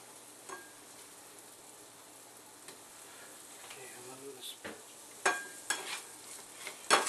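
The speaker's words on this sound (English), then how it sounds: "I'm just going to give these a light saute." Food being lightly sautéed in a pan, a quiet, low sizzle punctuated by several sharper scrapes and clatters toward the end, close by, with no one speaking.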